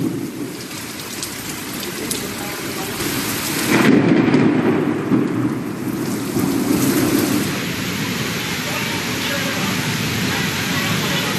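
Heavy midday rain pours down in Kolkata during a thunderstorm: a dense, steady hiss of rain on surfaces, with a deep thunder rumble swelling near the start before settling back into the continuous downpour.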